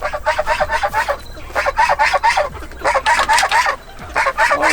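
Free-range chickens and geese together, with repeated clucking, crowing-like calls and honks in quick bursts close by, a busy overlapping flock chorus with no talk.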